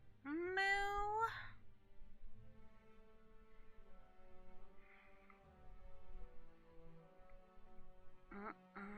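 A house cat meows loudly and close by at the very start, then quiet room tone follows, and a second short meow cuts in at the end.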